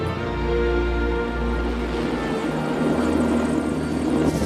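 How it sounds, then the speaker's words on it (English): A helicopter's rotor thumps loud and steady throughout with a strong low rumble, continuing alone without any voices. "let's hop on a helicopter to travel to Jurassic Park"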